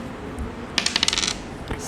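Dice rolled during a classroom board card game at a school, giving a quick burst of about eight bright clattering taps as they tumble and settle, close and distinct against a quiet room.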